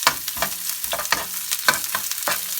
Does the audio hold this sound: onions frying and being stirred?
yes